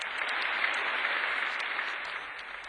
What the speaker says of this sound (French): Les chats applaudissent.